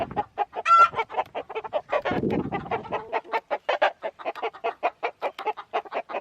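Hens in a coop cluck rapidly and agitatedly in a steady stream of short calls, with one brief higher squawk and a scuffling flutter partway through.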